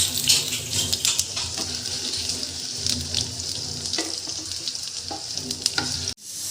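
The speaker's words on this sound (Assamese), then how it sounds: "তাৰপিছত এয়া পিঁয়াজ দি দিছোঁ, নহৰু, আদা, তাৰপিছত বিলাহী, এইবোৰ চব ফ্ৰাই কৰি ল'ম প্ৰথমতে।" Onion, garlic, ginger and tomato frying in a little oil in a pan, a steady close sizzle with light stirring scrapes throughout, cutting off abruptly near the end; no voices.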